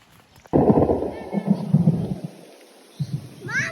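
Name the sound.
rain falling in a village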